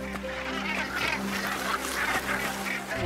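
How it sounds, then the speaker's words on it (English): A large northern gannet colony on Bonaventure Island in the Gulf of St. Lawrence fills the air with a steady, dense chorus of harsh, overlapping seabird calls, continuous and fairly loud throughout. "is Bonaventure Island, the largest northern gannet colony in North America."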